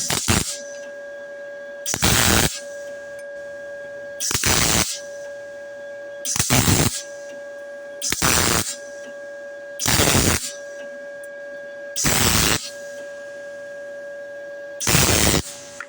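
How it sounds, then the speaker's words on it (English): An ArcCaptain MIG 200 inverter welder in spot mode tacks a round weld nut. There are eight loud, evenly spaced bursts of buzzing arc, each lasting about half a second, with a steady electrical hum between them. "This round thing is a weld nut, and I'm going to test out the spot welding feature of this machine on it."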